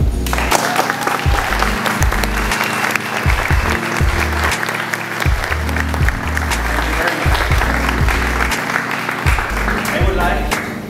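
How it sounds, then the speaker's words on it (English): Warm, sustained applause from a large audience, dense and steady throughout with some voices mixed in. "I would like you to welcome with a very warm applause, Dan Nairo, the Commissioner."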